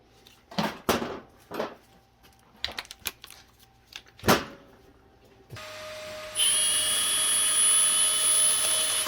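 Power tool shaving down the edges of a metal part during a Ford F-450 truck build, heard as several sharp bursts of grinding and cutting, then a steady loud high-pitched whine.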